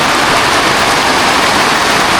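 Heavy rain pouring down onto garden plants, a loud, dense, unbroken hiss of falling water filling the whole stretch with no pauses.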